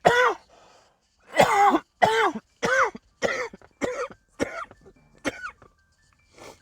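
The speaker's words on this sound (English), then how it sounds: "Sorry about the coughing fit." A coughing fit from someone playing a video game: about nine harsh, loud coughs in a ragged run, near and alone, with some throat clearing between the bursts.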